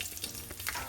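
Garlic frying in a little oil in a pan, a steady close sizzle with faint crackles throughout.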